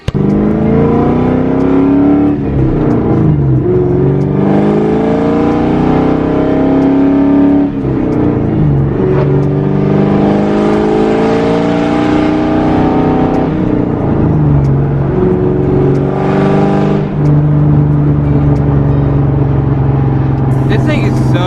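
Supercharged Ford Mustang GT engine roars and revs continuously while driving, loud and close, with rising and falling pitch and the supercharger whine through the gear changes.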